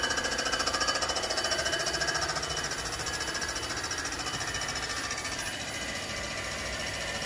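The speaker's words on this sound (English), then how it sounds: "we'll take another pass and see what it looks like." A Comec ACF200 milling machine taking a pass across an R56 Mini Cooper cylinder head, a loud, continuous, rapidly chattering cutting noise that holds steady throughout with no talking.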